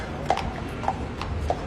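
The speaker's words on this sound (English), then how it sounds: "this is where the City of Westminster Police keep their horses." City of Westminster Police horses at their Great Scotland Yard stables make faint, evenly spaced hoof clops on hard ground, about three in under two seconds, against a quiet urban background.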